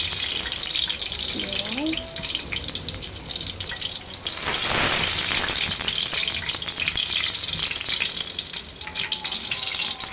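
Eggplant sizzles and fries in a pan with a steady, dense crackle, swelling briefly louder midway as it is stirred, with a short spoken word near the start.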